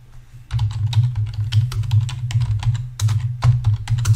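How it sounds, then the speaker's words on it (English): Someone types a line of Python code on a computer keyboard, producing quick, close, crisp key clicks in irregular bursts with short pauses between them. No one speaks. "Open this document and type the following."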